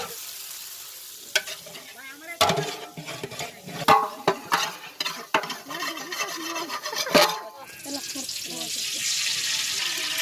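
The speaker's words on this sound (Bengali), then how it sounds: "এবার আমরা ডিমটা দিয়ে দেব।" Eggs tipped into a pot over a village-style cooking fire and frying, with a steady sizzle under scraping and stirring knocks, a sharper hiss swelling toward the end; no talk.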